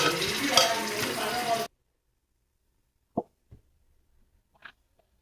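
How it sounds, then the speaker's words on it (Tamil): Tomatoes going into onions frying in a pan for biryani: a loud steady sizzle that cuts off abruptly, followed by near silence with a few soft, isolated plops and taps. "அடுத்து தக்காளி தக்காளி பழம் போடுறேன்"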